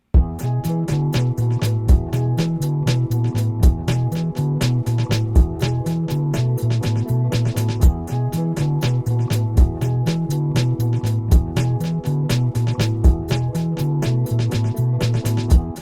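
A synthesized bass line pulses in a steady repeating pattern, with bright ticking percussion running densely on top, loud and continuous without any talking.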